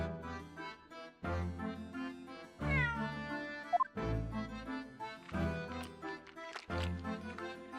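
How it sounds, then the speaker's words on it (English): Wagahai, a cat in the video game The Great Ace Attorney 2, meows several times in a row, with bright, close, repeated cries separated by short pauses and no speech. "Ah, what a good cat."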